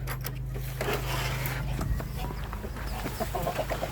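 Roosters cluck and call in short bursts close by, over a steady low hum, with scattered farmyard noise around them.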